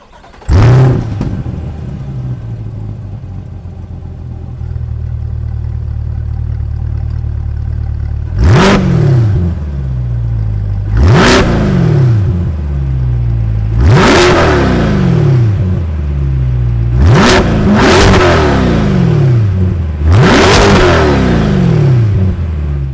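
The 6.2 liter LT2 V8 of a 2022 Chevrolet Corvette C8 starts with a sharp crank, then idles before being revved five times, each loud rising roar falling back to a rumbling idle.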